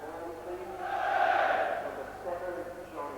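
A large football crowd of supporters inside the St Andrews stadium during a Charlton Athletic v Leeds United play-off final, a broad distant roar that swells in the middle and then eases back.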